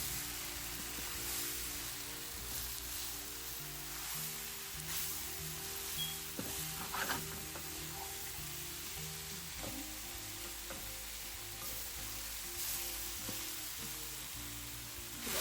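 Loud, steady sizzling of chicken frying with onion and pepper in a hot pan for Caribbean-style curry chicken, with occasional stirring and clatter, no voices.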